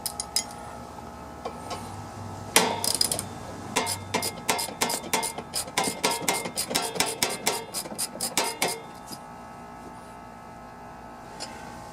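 Metal tools rattle and clink against the adjuster of a Cub Cadet mowing deck as it is turned clockwise, a dense run of sharp close-up ticks and clatters over a faint steady hum, tapering to quiet at the end.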